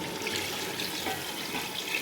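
Water poured into a pot of browned chicken for degi chicken pulao, a steady, close rushing splash that runs unbroken for the whole stretch with no talking.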